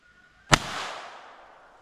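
A single sharp Huben GK1 air gun shot fired into a ballistic dummy head, one loud close crack with a brief decaying tail, otherwise quiet.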